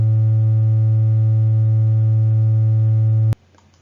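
Pure 104 Hz sine tone, a loud, even, low hum sustained alone for over three seconds, then stopping suddenly with a faint click.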